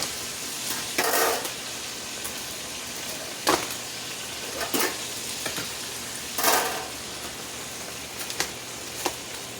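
Frozen crosscut beef shanks browning in a pan give a steady sizzle, broken by a few brief louder bursts of spitting and stirring, with no talk.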